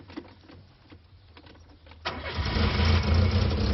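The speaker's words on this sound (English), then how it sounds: "If you put it in reverse first and then start it up" A car engine cranks and catches after a quiet stretch, then settles into a loud, steady idle close by.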